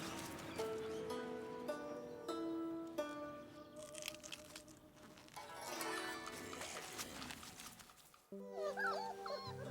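Shar-Pei puppies whimper and yip softly in a quiet indoor setting, with small scuffling sounds; a brief musical passage enters near the end.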